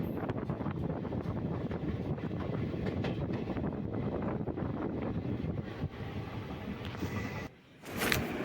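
The Parasuram Express rumbles along steadily from inside a carriage, crossing Munroe Island in Kollam, Kerala, its noise rough with wind buffeting; the roar dips briefly near the end, then a sharp hiss rises.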